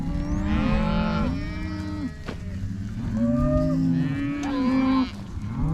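Several cows moo loudly and repeatedly at close range, their long, low calls overlapping with one another and no talking.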